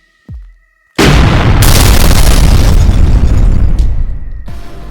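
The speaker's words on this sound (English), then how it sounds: "At first, a muffled explosion was heard." A short muffled thud is followed by a massive, roaring blast that rumbles loudly and sustains for several seconds before tapering slightly.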